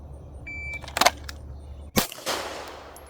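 A pistol fires during a performance shooting drill: two sharp, separate shots about a second apart, close and crisp against quiet background.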